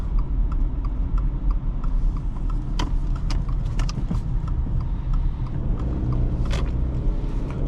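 A 2021 Subaru Outback 2.5i making a slow U-turn, heard from inside the cabin as a steady low engine and road hum, with scattered light ticking and clicking from the interior throughout.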